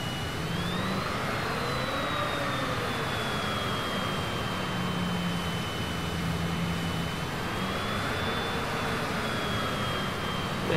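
Jet engines of a Cessna Citation CJ4 in Microsoft Flight Simulator, near Roswell and Albuquerque, hum steadily with a whining tone that drifts slightly in pitch, loud and continuous throughout with no talking.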